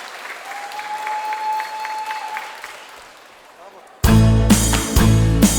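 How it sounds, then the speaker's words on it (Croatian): A concert hall crowd claps steadily for the children's choir of Petar Preradović primary school from Pitomača at the Kukuriček 2023 children's festival. The applause fades, then loud music bursts in. "Pozdravimo pljeskom dječji zbor osnovne škole Petra Preradovića iz Pitomače."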